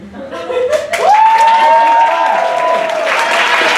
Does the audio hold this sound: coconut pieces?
no